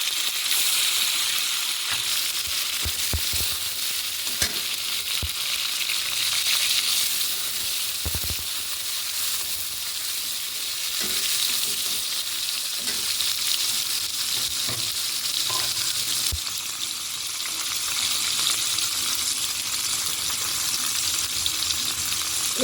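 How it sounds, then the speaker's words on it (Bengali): Whole spices and chopped tomato fry in a pan for a Bengali potato dum curry, giving a steady close sizzle with occasional stirring knocks and scrapes throughout. "ফোড়ন, একটু ভেজে নিচ্ছি।"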